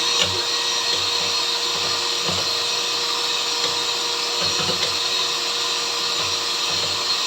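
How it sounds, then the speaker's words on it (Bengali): A blender whips up homemade mayonnaise nonstop, a loud, steady motor whine running evenly throughout with faint rhythmic churning underneath. "এখন আর আমি মেশিন থামাবো না"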